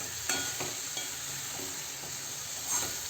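Cut eggplant pieces sauté in a spice masala for a rustic dal vange, sizzling steadily in the pan with a few soft stirring scrapes and clinks, close and continuous with no talking.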